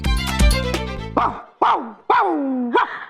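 A man in a Hindi comedy series imitates a dog with four or five short, loud, yelping barks after a brief burst of music, each bark a separate voiced yip.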